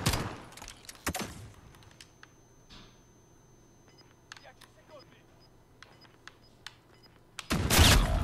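Gunfire in Call of Duty Modern Warfare: sharp loud shots open the stretch and return at the end, with scattered lighter clicks and pops between them.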